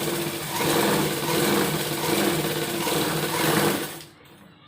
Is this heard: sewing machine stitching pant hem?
yes